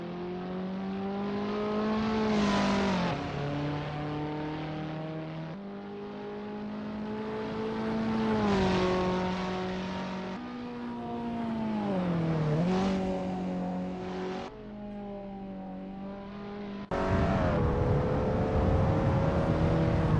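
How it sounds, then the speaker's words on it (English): Abarth 500 racing in the video game Assetto Corsa, a small engine revving hard through repeated gear shifts, pitch climbing then dropping with each change, steady and close with no voices. "Wayne Pearson is getting to grips with the Abarth 500 Assetto Corsa in this practice session."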